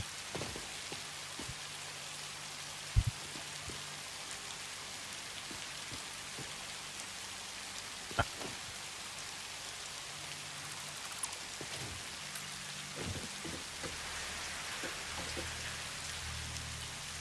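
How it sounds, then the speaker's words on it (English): Steady rainfall in a video game, a continuous soft hiss of drops on surfaces with a few faint clicks and thumps scattered through, no voices. "Love the sounds of the rain,"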